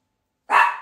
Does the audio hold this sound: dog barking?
yes